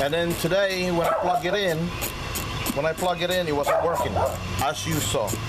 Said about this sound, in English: That's our dog barking at some people at the front yard, well, on the street.